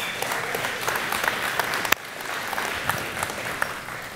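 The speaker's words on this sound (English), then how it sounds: "I know you're clapping" A church congregation claps steadily, a dense unbroken patter of many hands with a few sharper claps standing out, heard at moderate volume.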